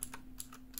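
Clicky mechanical switches on a Varmilo VA108M Moonlight keyboard give three or four quick, faint key clicks in under a second over a low steady hum.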